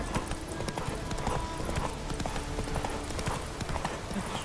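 Hooves clip-clop in a brisk, regular rhythm as a horse trots through The Witcher 3, clear and close over a busy low background, with a faint whinny hinting in places.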